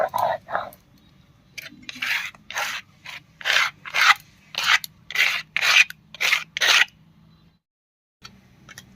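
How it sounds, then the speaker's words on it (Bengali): Soaked sun-dried rice is ground on a traditional grinding stone in a home kitchen. About ten rhythmic, close-up rasping strokes follow one another, then the scraping stops. "এবার একটু ভিজিয়ে রাখা আতপ চাল বেটে নেব"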